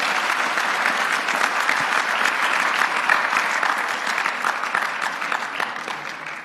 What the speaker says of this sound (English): A round of applause, please, for Imam Merchant Omar Nassimi.